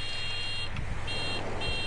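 A motorcycle horn in the Far Cry 6 video game sounds three times, steady electronic-sounding beeps with short gaps between them, over a constant bed of game background noise.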